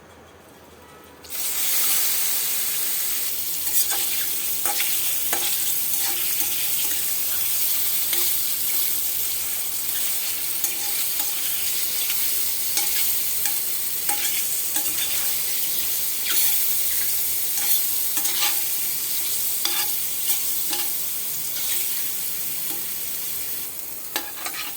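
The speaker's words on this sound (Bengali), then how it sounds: "এবার আমি মাশরুমগুলোকে ভাজবো।" Mushrooms fry in white oil in a kadai with a loud, steady broadband sizzle that stays constant throughout, with occasional stirring clicks and no speech.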